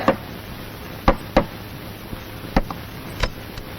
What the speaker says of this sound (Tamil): கதவை யாரா தட்டுறாங்க